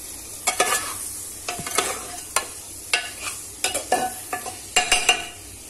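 Coriander, mint and green chilli being stirred into an egg biryani mixture in a pot, with irregular scraping and clinking stir strokes over a soft sizzle, close and fairly loud, no talking.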